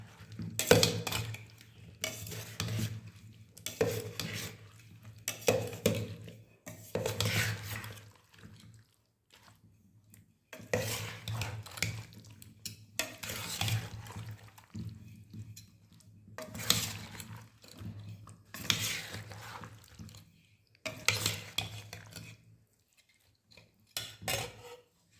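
Tender mango pickle mixture being stirred by hand in a vessel, with repeated scraping and clinking bursts separated by short pauses, close by and moderately loud over a steady low hum, with no talking.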